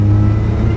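Supercharged Mazda MX-5 NA accelerating, a loud steady engine drone heard from inside the car in a brief burst.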